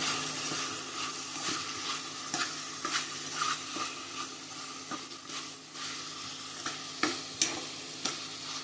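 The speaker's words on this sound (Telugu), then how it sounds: "కొన్ని ఆనియన్స్ కూడా వేసుకుందామండి ఆనియన్స్ వేసుకొని కలుపుతూ ఉండాలండి" Onions fry with chicken pieces under a steady loud sizzle while a utensil stirs them, with repeated close scraping strokes coming through the hiss.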